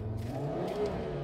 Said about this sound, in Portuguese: essa pisadinha eu já senti a maldade do ronco do 5 cilindros